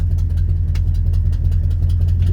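A 1971 Ford F250 Highboy pickup engine idling steadily, a loud, close, even low rumble with a faint rhythmic chug and no voices.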